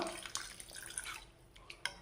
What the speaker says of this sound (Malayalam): നമ്മൾക്ക് ഇതിന് ഒരു കപ്പ് നിറയെ വെള്ളം കൂടെ ഒന്ന് ചേർത്ത് കൊടുക്കാം